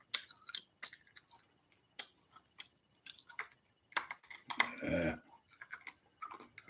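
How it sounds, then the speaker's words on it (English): Someone chewing food with the mouth open in a rude way, with close, irregular wet crunching and smacking bursts, plus one longer, louder noisy stretch partway through. "I'm just chewing away."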